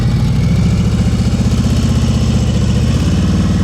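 A motorcycle engine runs at low revs during slow-speed riding practice, a loud, close, steady pulsing throb that holds without any change in pitch.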